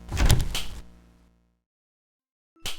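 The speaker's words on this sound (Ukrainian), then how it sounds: "Він чує кожні двері, які я відчиняю." A door opens in Baldi's Basics Classic Remastered, a quick mechanical swish and thud that rings briefly and fades into silence, followed by another short burst at the end.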